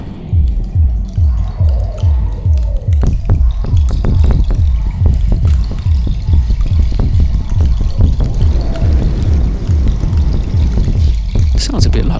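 A thumb lightly strokes the spikes of a spiky object, making rapid, close ticking and crackling like light dripping or sizzling, steady for the whole stretch under a low rhythmic hum.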